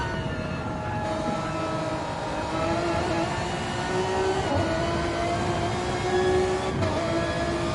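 Honda and Lexus Super GT race cars at Watkins Glen accelerate hard through the gears toward top end, engine notes rising in steady pitch sweeps with brief dips at each upshift, loud and continuous with no talk.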